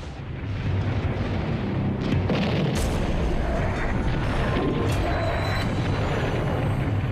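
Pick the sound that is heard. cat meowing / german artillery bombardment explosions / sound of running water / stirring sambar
german artillery bombardment explosions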